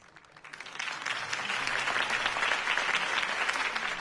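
A crowd breaks into applause after a mayoral candidate's campaign speech in Batman, clapping swelling from quiet to a sustained, dense ovation that holds steady, heard alone without voices.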